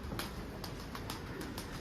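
A pigeon coos faintly in a quiet setting, a few soft low calls repeated at a slow, regular pace against a steady background hiss.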